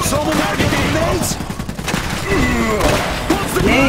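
Rapid bursts of gunfire and machine-gun volleys crackle through a World War-style battle in the strategy game Iron Harvest, dense and loud throughout, with shouted voices mixed in.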